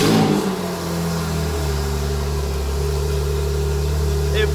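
Porsche Macan Turbo with the performance pack, 440 horsepower, its engine revving loudly at first, then settling into a steady, close rumble that holds for the rest of the stretch.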